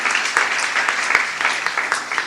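Applause from a crowd at a political speech by Anurag Thakur, a steady dense clapping with occasional louder individual claps throughout.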